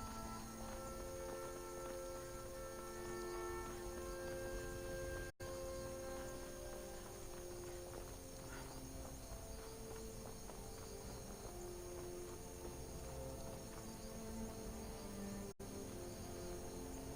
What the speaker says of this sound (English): We have a horse, too.